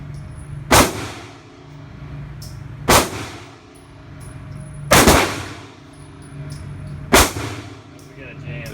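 Four loud, sharp gunshots from a Remington R51 Gen 2 pistol at an indoor range, spaced about two seconds apart, each with a ringing tail over a steady background hum.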